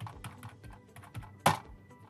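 Computer keyboard keys tapped in quick irregular bursts while an IP address is entered into a terminal, with one sharper, louder keystroke near the end; close and clear, no voices.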